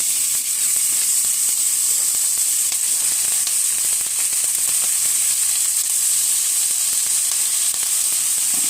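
Sticks of butter melt in a hot pan, producing a loud, steady sizzle and crackle that runs unbroken throughout with faint spattering pops.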